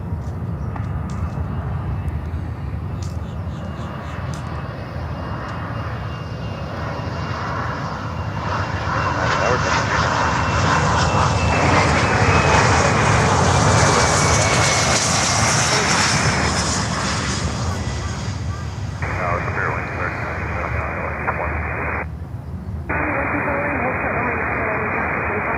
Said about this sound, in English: This one is coming in here on runway 9.